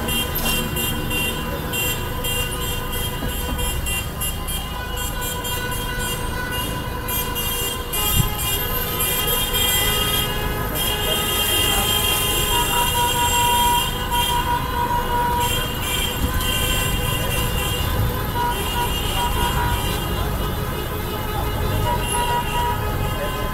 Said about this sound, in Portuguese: Buzinaço aqui.